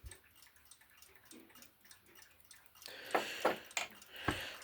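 A pocket watch ticking close by, a steady run of faint regular ticks that turn into a few louder, sharper clicks toward the end.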